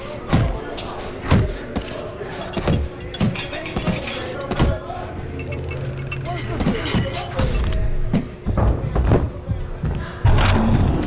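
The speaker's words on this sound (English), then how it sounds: "Punch harder, faster." Repeated thudding punches from a boxing training session in the Fight Night Champion video game, landing in irregular bursts of impacts over a steady hum, with a trainer's voice talking throughout.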